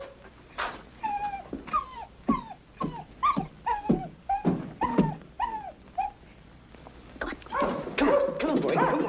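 A dog in a 1951 comedy-drama barks and yips in quick uneven bursts, some calls rising into whimpers, fairly close and loud, with brief gaps between volleys and a busier stretch near the end.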